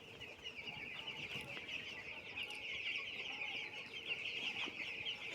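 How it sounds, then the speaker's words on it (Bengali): Young chicken chicks on a farm chirp in a constant, fairly quiet chorus of high peeps, with the occasional cluck of an older bird standing out. "এলো মুরগির বাচ্চা"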